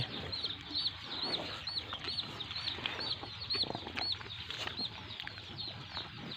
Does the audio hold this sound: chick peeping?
yes